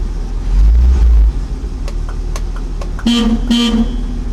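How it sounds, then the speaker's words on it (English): A 1955 Powell Sport Wagon's horn honks twice in short blasts over its steady idling engine, loud and close. "Here's the horn."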